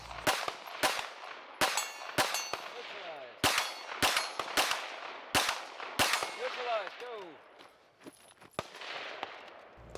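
Rapid pistol shots crack close by during a competition shooting stage, each followed by a ringing clang from steel targets, in quick strings with short pauses.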